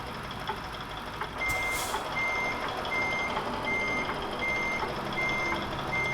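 A truck backing a trailer in American Truck Simulator, an FLD making a construction site delivery, with a steady reversing beeper repeating at even intervals over a low engine rumble.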